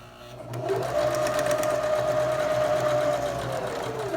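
A sewing machine stitches a half-inch seam on a fabric card wallet, giving a steady, close, continuous mechanical whir with no talk.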